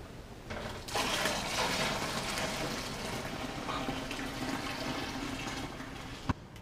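Tap water rushes steadily into a plastic homebrew beer bucket that already holds cold water, a continuous close splashing flow that ends with a brief knock.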